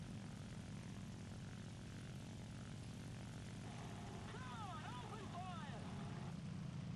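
Nakajima Ki-43-II propeller fighter engine in the War Thunder video game, a steady droning engine hum heard throughout at moderate level, with faint warbling tones appearing midway.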